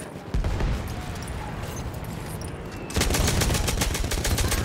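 Rapid gunfire in the video game Battlefield 1, dense bursts of shots over game noise, growing louder and more sustained partway through.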